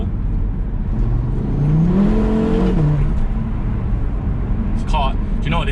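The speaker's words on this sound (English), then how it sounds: "I'll do a little second gear pull." An Audi TT RS (8J) engine revs upward in a rising second-gear pull, loud and close, with steady road and wind noise throughout.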